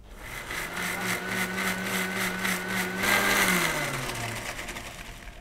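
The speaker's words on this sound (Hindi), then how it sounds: "और इसको मिक्सी को चला लेंगे।" A kitchen mixer grinder blends mint and coriander leaves with water in a loud, steady motorized whir. Its pitch sags and drops partway through as the load shifts, and no one speaks over it.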